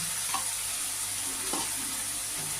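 Rohu fish curry with whipped yogurt sizzles in a pan while being stirred, giving a steady close frying hiss with two brief scraping strokes.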